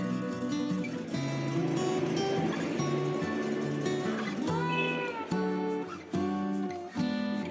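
A two-month-old American Shorthair kitten meows several times in a row, with clear, fairly close cries and short pauses between them, and no talking over them.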